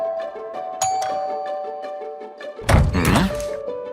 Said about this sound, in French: Il a été interrompu par la sonnette.